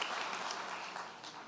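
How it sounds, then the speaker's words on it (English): Dense, steady applause from a crowd at an Ohio gubernatorial campaign event, a continuous wash of many hands clapping that stays fairly loud and slowly eases off over a second and a half. "Clap for that."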